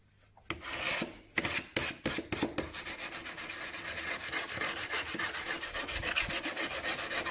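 A file rasps along the bevel of a secateurs blade in steady, rhythmic close strokes, starting with a few separate passes and then settling into a continuous even back-and-forth, with no talking.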